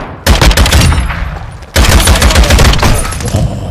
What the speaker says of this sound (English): Oh, I missed those shots.